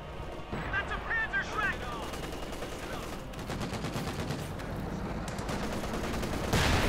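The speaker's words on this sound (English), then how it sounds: "That's a Panzer Schreck!" Panzerschreck rocket launchers fire in a Company of Heroes 2 battle, with sharp blasts among rattling gunfire and explosions in a dense, continuous wartime mix.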